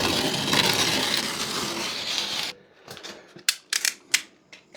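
Utility knife scoring and snapping plasterboard on a timber frame wall: a steady scraping cut for a couple of seconds, then a pause and several sharp, close cracks and clicks as the board bends and breaks.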